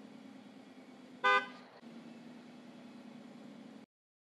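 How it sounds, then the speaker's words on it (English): A truck horn gives one short honk at the end of a backing maneuver during a CDL skills test, heard over the low, steady rumble of the idling engine. "blow our horn to signify we're done with our maneuver"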